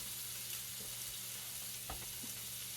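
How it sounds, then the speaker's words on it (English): Chicken and onions sauté in a soup pot, a soft continuous sizzle with a few faint scrapes of a spoon stirring, quiet and close, with a low steady hum underneath. "Always add salt to your sauteing onions for soup."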